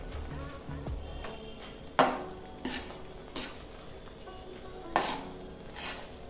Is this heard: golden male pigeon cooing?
no